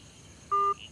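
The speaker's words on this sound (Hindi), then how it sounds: "मैथ्यू का फोन मिला रहा है।" A single short touch-tone beep from a phone keypad, clean and steady, with quiet background otherwise.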